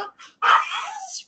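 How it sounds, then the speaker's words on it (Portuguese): Small pet dog barking indoors during a lecture, a short yip followed by a louder, longer bark, close and fairly loud. "Meu cachorrinho, como vocês já sabem, assiste aula junto com vocês."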